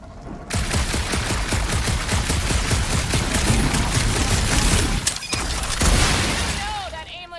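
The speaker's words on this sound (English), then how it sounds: "Shooting isn't gonna scare the monsters away, right?" Rapid gunfire from a Marvel's Guardians of the Galaxy game battle rattles in dense, continuous bursts for several seconds, with a brief lull near the end before more shots and a whooshing effect.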